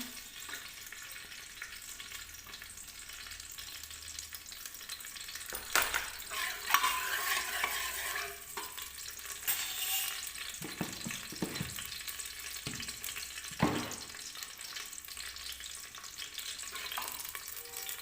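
Garlic hits hot refined oil and sizzles fairly softly for a turnip, potato and fenugreek dish, with occasional louder crackles and light stirring clicks against the pan.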